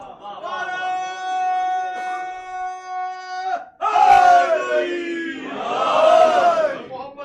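At a religious celebration for the birth of Imam Mohammad Baqir, a sustained chant-like tone gives way to a sudden, loud roar of a crowd shouting slogans together, swelling again toward the end.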